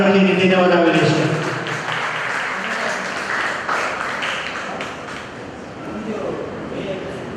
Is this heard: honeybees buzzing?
no